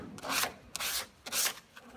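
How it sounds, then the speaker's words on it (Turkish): Sandpaper rubs over body putty on a Suzuki Carry's bodywork in three long, steady strokes with short pauses between them, close by and with no talking. "Şimdi burayı zımparalıyoruz"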